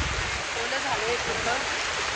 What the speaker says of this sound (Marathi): पाऊस थांबायचं नावच घेत नाही आणि त्यात छत्री आणली नाही आम्ही